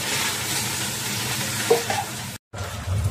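Cumin pork slices are stir-fried in a wok, with a close, continuous sizzle and scraping stir sounds, a few clinks of the utensil, and a brief moment of silence near the end.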